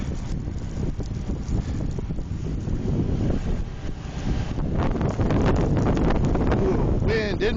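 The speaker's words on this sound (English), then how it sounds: "Wind in my face." Strong wind blasts across the microphone during a blizzard in Quincy, Massachusetts, a steady loud roar of gusts and buffeting with a brief voice near the end.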